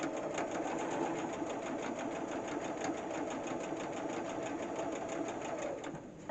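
A sewing machine runs steadily, finishing a partial seam on a Christmas table runner, with a fast, even needle rhythm that keeps going close and loud until it stops near the end.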